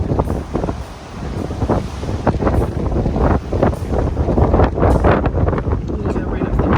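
Strong wind blasting across an open deck of a large cruise ship, loud continuous rumbling buffeting on the microphone with surges and gusts, no clear speech.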